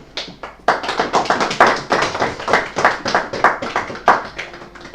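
A congregation claps together in praise at a church baptism service, loud, close and steady rhythmic clapping that starts after a brief quieter moment and carries on without a break.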